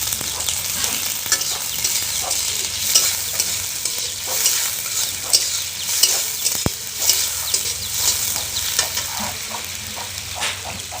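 Onions sizzle in hot oil in a pan for a chicken curry, loud and continuous, with repeated scraping stir strokes and a sharp utensil clink partway through, and no voices.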